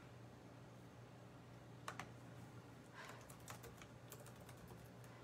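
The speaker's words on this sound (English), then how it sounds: "Just typing on the old video to say," Typing on a computer keyboard during a live art stream, with faint, sparse clicks over a steady low hum and background noise.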